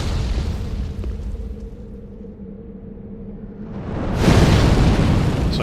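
A statue in Dark Souls 3 shoots fire, a loud whooshing burst that swells in about two thirds of the way through and roars on to the end over a low ambient drone.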